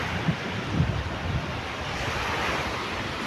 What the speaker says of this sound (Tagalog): Kasi pagka ganitong amihan, malakas ang alon.